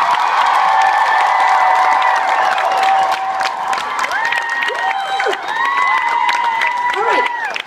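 A crowd at a concert in San Diego claps and cheers for a band member, with loud sustained applause, whoops and rising, falling shouts layered over one another throughout.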